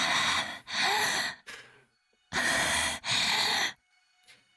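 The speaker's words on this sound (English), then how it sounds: "I heard panting in my ear." Heavy, breathy panting from the visual novel Chaos;Child, close and intimate as if right at the ear: two pairs of loud, drawn breaths separated by a short silence, each trailing into a faint tail.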